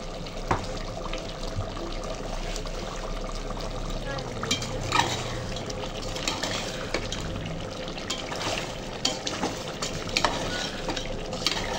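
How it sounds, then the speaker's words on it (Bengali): Meat braises in a pot with a soft, steady bubbling sizzle, while a utensil scrapes and clinks against the pot at irregular intervals, moderately close and continuous throughout. "আর গোশতটা কষানো হচ্ছে।"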